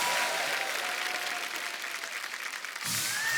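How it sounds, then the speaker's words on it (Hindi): Studio audience applause at a Hindi comedy talk show, steady dense clapping throughout, briefly thinning then swelling again near the end. "सबसे स्वीटेस्ट सुपरस्टार के लिए जोरदार ताली हो जाए।"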